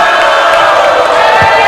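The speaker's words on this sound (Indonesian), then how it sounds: "kita beri tepuk tangan yang meriah kepada semua pasangan." At a regency head candidate debate in Demak, Central Java, a crowd gives loud applause with cheering and whoops, a continuous roar throughout.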